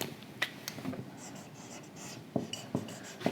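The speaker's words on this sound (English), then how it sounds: "See correctly what I am writing." Pen or marker writing out a beam support-reaction problem, scratchy strokes with a few sharp taps as symbols are marked, close and fairly faint, with no speech.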